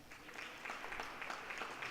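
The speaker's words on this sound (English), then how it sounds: "So please give a round of applause, y'all." A town hall audience in Highland Park applauds, with dense, fairly quiet clapping that holds steady for the whole two seconds with no voices.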